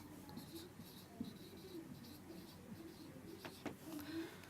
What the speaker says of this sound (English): Let me write that down for you here